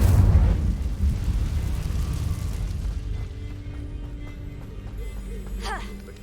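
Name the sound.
Incendio fire spell, from video game Hogwarts Legacy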